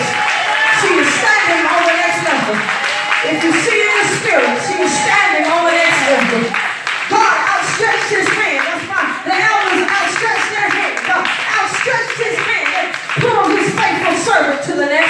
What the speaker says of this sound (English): Somebody give God a hand, clap of praise for promotion.